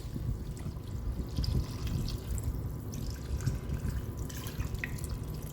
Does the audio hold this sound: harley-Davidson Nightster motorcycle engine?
no